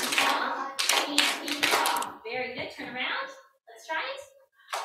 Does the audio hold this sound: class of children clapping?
yes